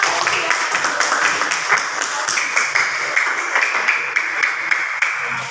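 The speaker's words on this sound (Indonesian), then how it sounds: "berikan tepuk tangan buat kelompok." Junior high school students in an Indonesian language class clap for a presenting group, a ragged, loosely rhythmic patter of hands from a modest number of people in a classroom.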